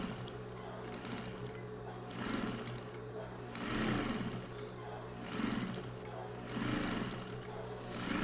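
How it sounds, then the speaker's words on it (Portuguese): A sewing machine stitches a line through the middle of a handmade patchwork rug, whirring steadily and close up in several surging bursts that rise and ease. "Agora eu venho e vou passar uma costura no meio, pra ficar bem fixadinho esse corpinho aqui."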